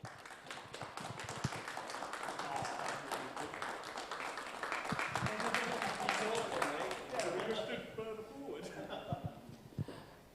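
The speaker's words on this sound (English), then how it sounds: "Huge round of applause for your top 3." Faint, distant applause for the top three finishers of round 5 at the Red Bull Ring, scattered claps running throughout beneath a talking voice.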